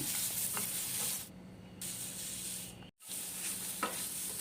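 Fried chicken pieces stirred through a sizzling pan for kaju-malai chicken, a steady close frying hiss broken by short pauses and the scrape of stirring, with no voices.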